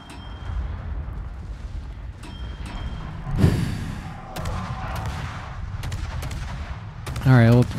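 Destroyer guns firing in the naval combat game World of Warships, a few sharp booming shots in quick succession with a rolling blast midway, followed by a warbling alarm-like tone at the end.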